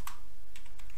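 A few quick computer keyboard keystrokes clatter close by in a brief burst of typing.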